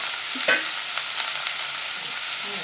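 Red and green sweet bell peppers stir-fried with pork in a pan for a garlic-pepper pork dish, giving a steady close sizzle with a few scraping stirs of the spatula and no talk.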